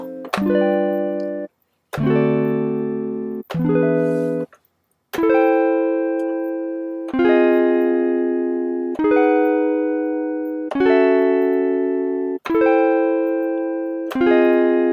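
A clean guitar tone from the Midi Soul Guitars Vol 1 VST plugin strums a series of seventh chords one after another, each ringing out and fading before the next, loud and alone.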